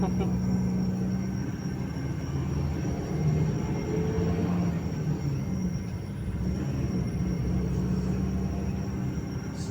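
An MRT-3 metro train in Manila rumbles steadily through the whole stretch, with a low droning hum and faint wheel noise, and voices murmur faintly beneath it.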